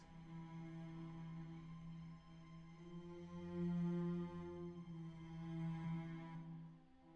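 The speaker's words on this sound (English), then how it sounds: "I've got concerto sordino cello as well" A soft, sustained string ensemble with a muted cello holds long, smooth chords, swelling gently in the middle; quiet and without speech.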